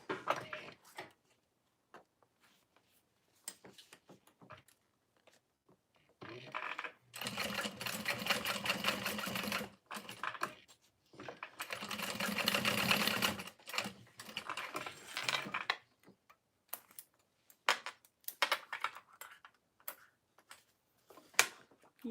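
A home sewing machine stitches fold-over bags in close-up, sounding in two long bursts of rapid, even mechanical clatter. Quiet pauses and scattered small clicks fall between them, and no voices are heard.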